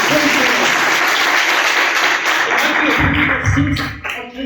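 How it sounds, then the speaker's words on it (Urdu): An Urdu-speaking church congregation claps loudly and vigorously during a sermon. A dense, close roar of hands runs continuously, with voices mixed in and a low rumble rising near the end. "اسی کے جلال کے لیے زوردار تالیاں بجائیے."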